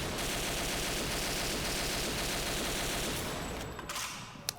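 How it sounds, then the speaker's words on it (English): A Type 89 rifle firing in the shooter Operation 7, heard as dense, rapid repeated shots at steady loudness for about four seconds before cutting off into a few trailing clicks. "on this gun, you get 3-round burst as well"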